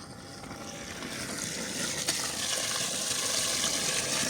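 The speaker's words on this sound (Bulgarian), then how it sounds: "Пуснахме да източваме водата и започваме почистване." Water gushes steadily as a pump drains a well at a petrol station, a dense rushing, splashing wash that slowly grows louder, with a single sharp knock midway.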